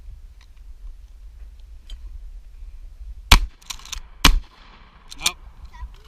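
Two loud, sharp gunshots ring out close by at an outdoor shooting range, roughly a second apart, followed by a few fainter shots and clinks.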